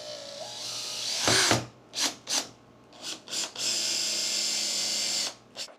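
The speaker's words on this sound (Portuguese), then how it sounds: "E eu vou parafusar isso." A power drill drives screws into a PVC pipe fishing rod holder, with one long whirring run, several short bursts of the motor, another sustained run, then a final quick burst, heard close and loud with no talking.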